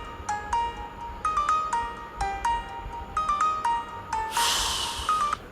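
A mobile phone ringtone plays a bright, repeating melody phrase several times, fairly loud over faint background noise, with a brief hissing burst near the end.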